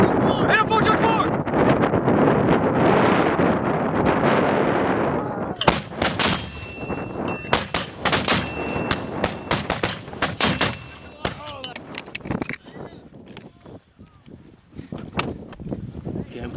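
Live-fire 81mm mortar rounds go off on a range as heavy blasts and sharp cracks, some close and some more distant, with strong wind rumble on the microphone and people talking throughout.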